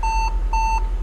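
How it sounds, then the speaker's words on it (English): A Mercedes G500 Cabriolet Final Edition sounds a warning chime: three even, clear electronic beeps, close and alone. "the nice sound keeps on beeping"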